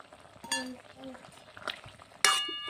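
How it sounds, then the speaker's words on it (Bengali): Spoon stirring ground chilli into potato and pointed gourd in a pan, with scraping and light metallic clinks, a sharper clink near the end, under faint background sound. "বেটে রাখা লঙ্কাটা দেওয়ার পর ভালোভাবে সবগুলো একসঙ্গে মিশিয়ে নিলাম"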